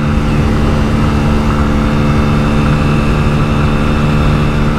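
Hero Splendor Xtec 2022 motorcycle engine held at full throttle at top speed on a road, a loud, steady droning roar with a constant low hum running throughout without pause.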